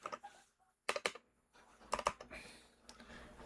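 Quick bursts of keystrokes on a computer keyboard, clustered in two dense clicking flurries with short pauses and a lighter tap near the end, close and clear with no talking, as text is deleted while writing JavaScript code.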